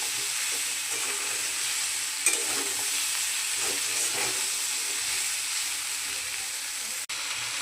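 Poppy seeds (posto) frying in a pan give a steady, soft hiss and sizzle, with faint stirring scrapes and a small knock near the end.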